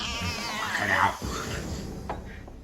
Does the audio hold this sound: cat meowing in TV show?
yes